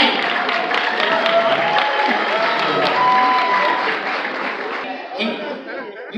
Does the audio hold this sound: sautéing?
no